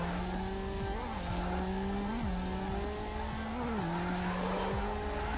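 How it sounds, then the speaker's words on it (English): A racing car fishtails in Need For Speed Underground, its engine droning steadily while tires squeal and skid in repeated sliding swings, loud and close throughout. "Just fishtail around the entire track."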